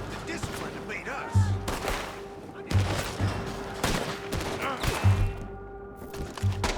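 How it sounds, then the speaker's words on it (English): Gunfire in Red Dead Redemption II, a rapid string of sharp shots and thudding bursts in uneven volleys, mixed with game voices talking. "Why did they open fire on me?"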